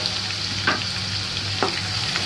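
Sliced onion fries with garlic and chili in a pan, giving a steady close sizzle with two short scraping stirs of a spoon against the pan.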